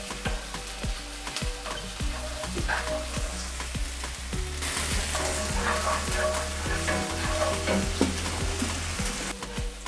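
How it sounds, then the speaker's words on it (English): Tomato paste sizzles and fries steadily in a hot pan, a continuous close crackle with occasional stirring scrapes; no one speaks. "1 tablespoon of tomato paste. And we're going to cook that out for about 1 minute"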